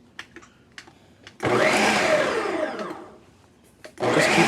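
Blender pulsing a homemade mayonnaise-style dressing: a few quiet clicks, then a loud whirring burst of about two seconds that fades, followed by another pulse starting at the end.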